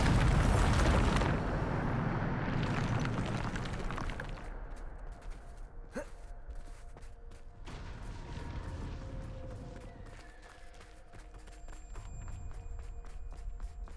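A Bombarda spell explosion in the video game Hogwarts Legacy erupts as a loud, deep blast that rumbles and fades over several seconds, followed by softer game effects and scattered impacts.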